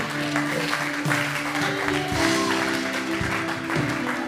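Church congregation clapping to acclaim Jesus during a pastor's sermon, a steady wash of applause mixed with sustained keyboard or organ chords, continuous and fairly loud throughout.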